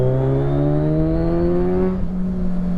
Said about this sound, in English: We got the Black Widow full decat exhaust on at the moment.